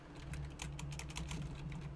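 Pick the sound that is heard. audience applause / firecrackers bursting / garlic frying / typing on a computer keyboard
typing on a computer keyboard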